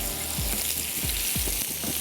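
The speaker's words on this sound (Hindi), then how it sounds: "यहाँ पे थोड़ा सा इसको सौते करते चलते हैं" Potatoes seasoned with salt and paprika sautéing in a pan, a continuous soft sizzle with low scraping strokes of a spatula repeating every half second or so.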